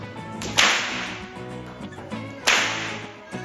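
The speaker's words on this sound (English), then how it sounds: "So there's 2 methods that we use to crack the whip" Two sharp, loud cracks from a stockman's whip at a farm show, spaced about two seconds apart, each a sudden bright snap standing out over a quiet background.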